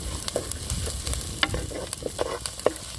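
Chopped green garlic and onion frying and being stirred in a pan, with a steady low sizzle and intermittent scraping strokes of a spoon, close and fairly quiet, with no talk.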